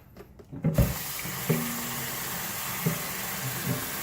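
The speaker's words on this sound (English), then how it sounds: "he's gonna put the water in there first" Water pours from a tap into a pot for boiling eggs, a steady close rush that starts abruptly after a brief knock and keeps running with a few small bumps.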